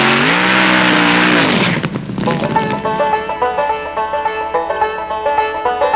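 A drag racing car roars loudly at close range, a sustained engine blare that drops sharply after a couple of seconds and then settles into a pulsing, rhythmic revving with strong tonal harmonics.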